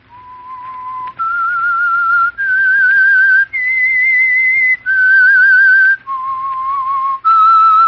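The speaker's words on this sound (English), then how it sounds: "That whistle is your signal for the Signal Oil Program, The Whistler." The whistled theme tune of The Whistler radio program: a single clear, loud whistled melody of sustained notes stepping up and down, alone with no talk.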